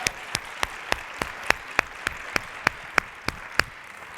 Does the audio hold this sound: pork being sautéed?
no